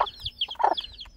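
Hens with chicks clucking and cheeping at feeding time, a quick run of close, bright clucks and chirps with no talk.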